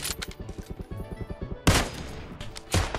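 Gunfire in the PUBG Mobile battle royale game on the Miramar map: a rapid rhythmic string of shots, then two louder, heavier bursts standing out close and sharp, with no talk over them.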